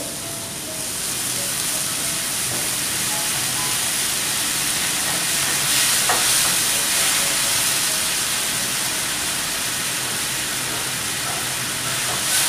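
Red roast chicken sauce sizzles and hisses steadily in a pan on the stove after a splash of water, a continuous broadband frying noise with a faint tonal hum underneath.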